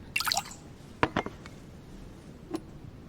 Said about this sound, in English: What is it about pouring liquid into cups that no one can do?